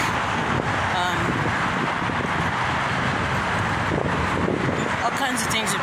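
Steady wind buffets the microphone outdoors, a constant rumbling roar with no pauses.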